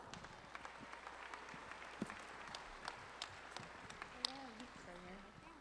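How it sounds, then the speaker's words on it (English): A crowd claps for the Indiana State Fair Queen at the 2024 fair's Grand Drive, a faint, scattered patter of hands in an open, noisy setting, with voices and a few higher calls rising over it near the end. "Please give Alexis Standish a round of applause."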